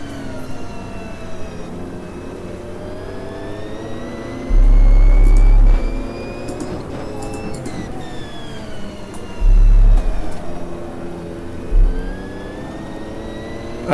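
Ford and Corvette GTE race cars roar in the Automobilista 2 racing game, their engines droning loudly and steadily with rising and falling pitch as they shift, broken by a few heavy low thumps.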